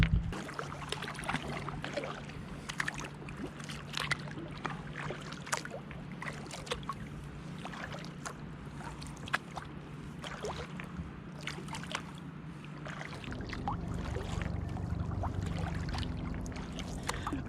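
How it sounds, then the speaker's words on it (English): A kayak paddled across alpine water in the Swiss Alps, with soft, irregular splashes and drips from the paddle strokes over a steady low outdoor rumble. The strokes continue without speech. "More paddling."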